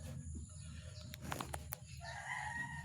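Chickens at a coop with a rooster crowing, faint and somewhat distant, with a drawn-out crow rising near the end over soft clucking and background noise.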